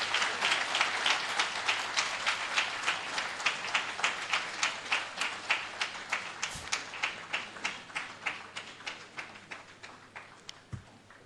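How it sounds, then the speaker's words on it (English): At an anti-corruption conference, an audience gives rhythmic applause for Professor Lumumba's talk, the claps falling into a synchronized, evenly spaced beat that gradually softens and slows over about eleven seconds. "Another round of applause for Professor Lumumba for that powerful, inspirational talk."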